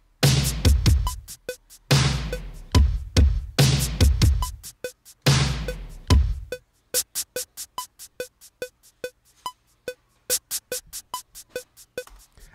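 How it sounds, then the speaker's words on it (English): Rhythmic shaker strokes echo with a repeating delay, first in dense bursts, then settling into a steady, evenly spaced pattern of crisp, bright pulses. "a shaker that sounds like this."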